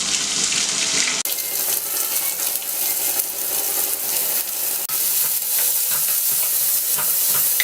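Small onions sautéing and being stirred in a hot pan while Suvarotti Varuval is cooked: a steady, loud sizzle runs throughout, with clinks from stirring. No one speaks.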